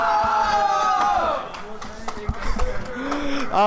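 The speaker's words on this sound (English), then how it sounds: "crowd showing a lot of support here for Hydra King" A crowd at a Tetris esports tournament match in a university LAN venue cheers and shouts in a sustained roar that dips and then surges again, with game sounds ringing over it.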